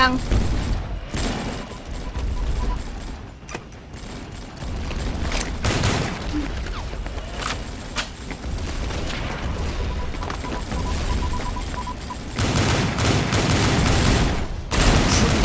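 Dense, continuous bursts of gunfire with scattered explosive booms, sustained throughout with a heavier volley near the end, mixed with sound effects from the game Avatar Star, including shotgun fire.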